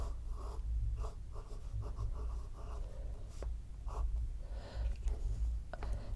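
Pelikan M800 Souverän fountain pen with a fine nib writing on paper, a soft continuous scratching and gliding close by, steady and quiet with no talking.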